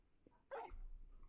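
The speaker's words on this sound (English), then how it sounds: "Bark." A single short dog bark from Final Fantasy XVI, faint and alone over quiet game ambience, followed by a low rumble.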